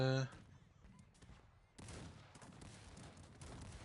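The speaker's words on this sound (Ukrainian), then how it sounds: "Так, гармати." Cannon fire in the strategy game Cossacks 3: bursts of booming battle gunfire after a brief musical tone, with dense crackling shots continuing at moderate level under faint talk.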